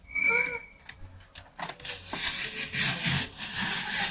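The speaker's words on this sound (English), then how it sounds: "We're going to cut the box down a little bit." Cardboard box being cut down with a blade or saw, rough rasping and tearing strokes building into a steady loud scraping, with brief handling noises at the start.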